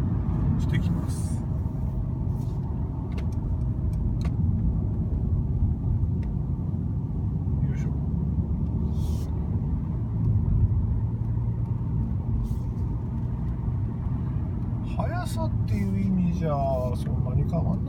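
Steady low rumble of a Mercedes-Benz C220d clean diesel engine heard from inside the car while driving, a constant drone and road noise running throughout under someone talking.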